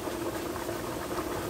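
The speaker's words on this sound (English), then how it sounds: "And let the water boil out." Water boils in a pot of Spanish chicken and rice, a continuous close bubbling and simmering hiss that stays steady throughout with no talking.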